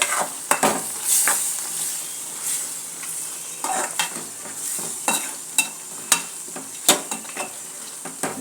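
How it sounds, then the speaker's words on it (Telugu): Chicken sizzles in a pan with tomatoes and coriander while a utensil stirs and scrapes against the metal in sharp irregular strokes, close and loud, with no speech. "వేగనిద్దాం బాగా."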